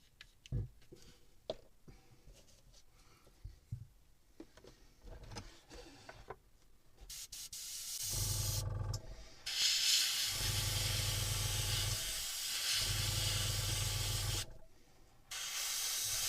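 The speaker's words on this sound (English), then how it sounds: "Now that, I'm going to wager, will work in my airbrush" An airbrush sprays paint on a scale model diorama, giving loud bursts of airy hiss that start and stop several times. Quieter handling and tapping noises come before the spraying.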